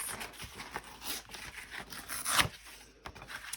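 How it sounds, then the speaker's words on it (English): A larger piece of painted collage paper being torn by hand, close and crisp, with a series of short ripping and crinkling bursts and a sharper final tear near the end. "I'm going to tear a larger piece"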